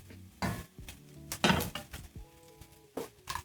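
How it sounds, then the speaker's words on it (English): Butter melting in a pan for breakfast eggs, with a soft sizzle under clinks and scrapes of a utensil against the pan, close and fairly quiet, with no talking. "once you start to see the butter bubbling or sizzling"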